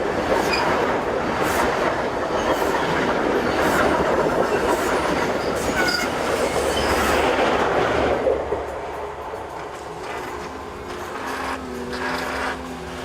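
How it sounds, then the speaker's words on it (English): An HST high speed train runs past in Cornwall under semaphore signalling, a loud sustained rush of engine and wheels that fills the scene, then eases to a quieter rumble with faint wheel noise as it draws away. "In Cornwall, the Hst'S work under the semaphores."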